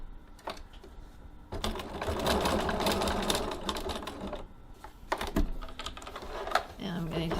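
A sewing machine runs in close, buzzing bursts as it back-stitches across a tote bag strap. Brief pauses and clicks fall between the runs, and a voice speaks partway through.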